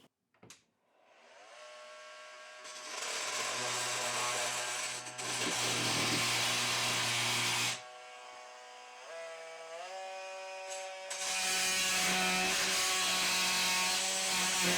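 A power saw whines as it cuts into material, a loud, steady motor drone with rasping cutting noise that surges and drops across several passes, close by and alone.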